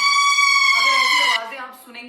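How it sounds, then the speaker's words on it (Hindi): An air raid siren sounds loud and steady as a single sustained wailing tone, then drops away after about a second and a half, leaving a fainter tail. "सबसे पहले हम बात करेंगे एयर रेड सायरन्स की।"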